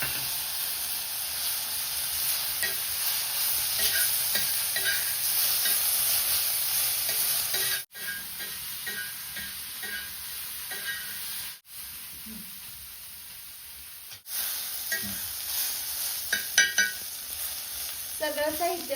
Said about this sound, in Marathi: सगळे जिन्नस आपण छान लालसर होईपर्यंत भाजून घेऊ